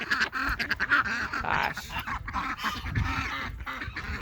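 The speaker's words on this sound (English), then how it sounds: "Black ducks are just pretty." Black ducks quacking on a farm, with repeated nasal quacks and honks from several birds close by, overlapping in an irregular chorus while a person speaks briefly.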